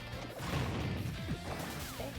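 A smash attack connects in Super Smash Bros., a loud crashing impact layered over busy game music and effects, brief and punchy.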